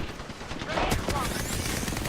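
Gunfire from a first-person battle royale game, Apex Legends, crackling as a rapid dense burst of shots that swells after the first second and keeps going to the end, mixed with game sound effects.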